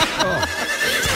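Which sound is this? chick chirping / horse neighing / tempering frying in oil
horse neighing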